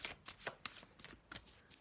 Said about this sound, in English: I'm going to have a little shuffle of the black and white Faulkner deck